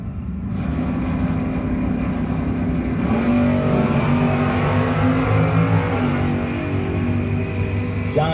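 Drag racing at the No-Box 660 Shootout has a Chevy Camaro against a Mustang, with loud, sustained engine roar from the cars at full throttle holding steady across the run.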